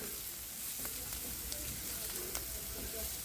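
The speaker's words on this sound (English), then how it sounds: "Now we're going to toss the onions in and get those softening up also" Onions tossed in oil with other vegetables in a non-stick pan, giving a steady low sizzle and frying hiss with occasional soft clicks of stirring throughout.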